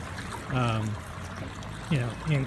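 River water spilling over small drops where the elevation changes, near Columbia, South Carolina, a steady rushing wash heard under someone talking.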